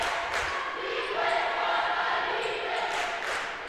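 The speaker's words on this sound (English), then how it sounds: "Carmi cheering section getting pretty loud here" The Carmi cheering section roars at a high school regional semi-final basketball game against Fairfield, a steady, loud crowd din filling the gym with a commentator talking over it.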